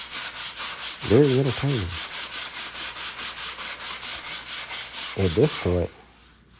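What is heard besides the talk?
sanding by hand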